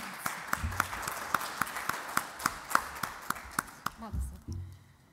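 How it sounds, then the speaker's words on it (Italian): Applause breaks out at an environmental sustainability event in Italy: a scattering of separate, sharp claps rather than a dense roar, moderately close, with a voice starting up near the end. "La ringrazio, un applauso."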